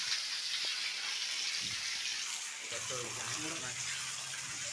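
Liquid pesticide pours steadily onto the ground with a hissing, gushing splash, and a low voice murmurs briefly partway through.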